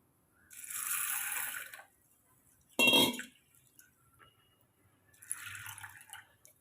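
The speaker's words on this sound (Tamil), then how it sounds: "ஒரு 2 கைப்பிடி அளவுக்கு நம்ம துவரம்பருப்பு எடுத்து கழுவி ஒரு 10 நிமிஷம் ஊற வச்சு எடுத்துக்கலாங்க" Toor dal being washed: water sloshing and swirling in a vessel in a few short bursts, with a sharp clink of a container in between, close and fairly quiet.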